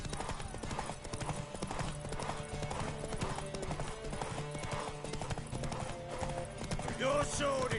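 Steady clip-clopping of a horse's hooves in The Witcher 3 on PS5, a constant trotting rhythm under music, with voices talking over parts of it.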